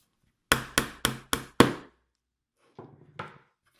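Five sharp hammer strikes ring out in a quick, evenly spaced run while parts of a TanukiWorks KC02 HPA kit are tapped into place, followed after a pause by a few softer taps and one last knock.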